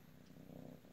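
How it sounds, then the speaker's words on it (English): An orange tabby kitten purrs close by, a low steady rumbling purr that carries on continuously and fairly quietly, with no talking heard over it. "Listen to him purr."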